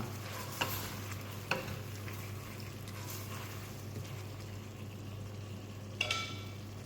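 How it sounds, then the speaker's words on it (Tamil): Onions and spices for vathal kuzhambu sautéing in a pan in a home kitchen in Kuwait: a soft continuous sizzle over a low hum, with a few sharp spoon scrapes and knocks against the pan. "நல்லா வதங்கட்டும்"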